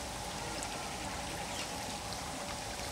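Stream water flows steadily past an old traditional water-powered flour mill near Khanpur Dam, Pakistan, a continuous soft rushing and trickling wash with no break or talk.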